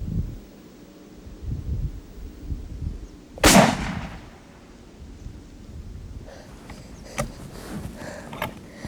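A single loud rifle shot fired at a whitetail deer during a hunt, with a sharp crack and rolling echo, followed by quiet rustling in the outdoors.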